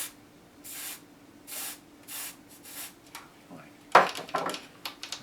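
Cleaner sprayed into a National RX-5100 cassette tape deck: several short, close aerosol hisses in a steady rhythm, then a louder burst of spraying and rubbing at the end, with no talking.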